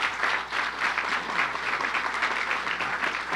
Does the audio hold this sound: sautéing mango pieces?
no